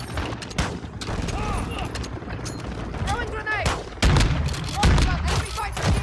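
Shotgun and other gunfire in a fast online shooter match on a cramped map, rapid bursts and booms crowding together under game effects, with someone talking over the shooting.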